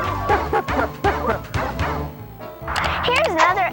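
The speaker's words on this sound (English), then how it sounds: "And then there's some excitement bark." Excited dog barking comes in a quick run of sharp, close barks, followed by a few higher yips at the end, with no one talking over it.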